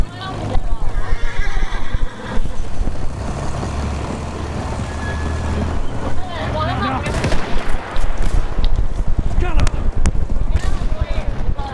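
Horses whinny and hooves clatter amid a busy Battlefield 1 game soundscape, with scattered gunfire and people talking over the loud, continuous action.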